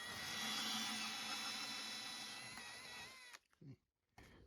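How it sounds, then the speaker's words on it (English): A power drill boring out a stuck screw runs steadily and loudly for about three seconds, then stops abruptly, followed by a couple of brief knocks and handling sounds. "We've got a good bit drilled out."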